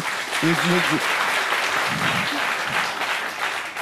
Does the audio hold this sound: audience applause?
yes